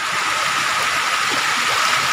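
Steady rushing flow of a cold mountain river near a waterfall in the highlands of Alegria, broadband and continuous at close range, with no voices over it.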